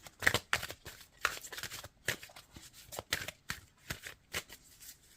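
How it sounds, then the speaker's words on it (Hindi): Tarot cards are shuffled and drawn by hand in a quick run of close, crisp riffling flicks and slaps, repeated in an uneven rhythm without voices. "दो कार्ड निकालेंगे हम।"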